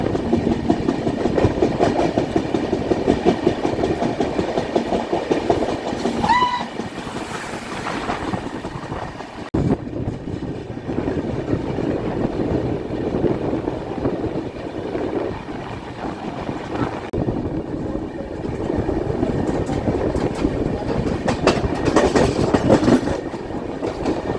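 An Indian Railways Lokmanya Tilak Patliputra superfast express runs at speed, heard from inside a 3AC coach as a continuous loud rumble with rhythmic clickety-clack of wheels over rail joints.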